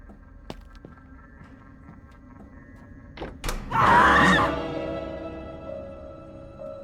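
A jump scare from the horror video game Fears to Fathom: after a few quiet clicks and thuds, a loud, sudden shrieking blast erupts and then fades into a lingering tonal drone.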